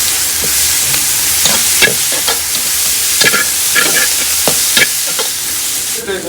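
Onions with ginger garlic paste sauté in a pan for chicken white kurma, a steady close sizzle broken by repeated scraping stirs of a spoon.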